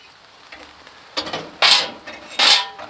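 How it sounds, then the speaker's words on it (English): Metal fire pan from a Masterbuilt 30-inch MPS230 propane smoker pulled out and set down, with light scrapes and then two bright metallic clanks, close by and without talk. "So I'm pulling out the whole fire pan here and just setting it down just because it's convenient."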